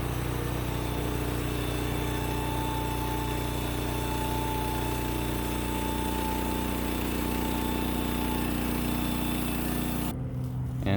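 A sawmill running steadily through an old walnut log on a final shallow cut, a loud continuous engine drone with a whining blade tone that holds for ten seconds and then drops off abruptly, with no talking.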